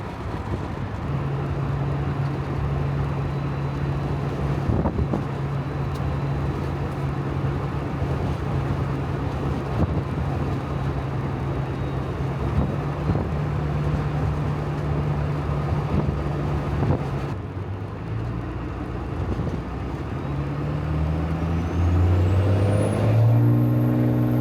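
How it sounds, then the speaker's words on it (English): A 1st gen 12 valve Cummins dually truck drones at steady engine speed, then accelerates near the end as its turbo spools up with a rising high whistle over the deepening engine roar. "Turbo sounds great."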